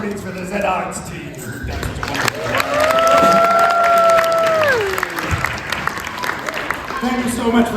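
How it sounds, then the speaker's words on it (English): An audience at a pirate-themed family theatre show breaks into applause with a drawn-out cheering shout over the clapping, rising after a spoken lead-in and settling back under talk. "Can I get a big round of applause, please, for the zarts team?"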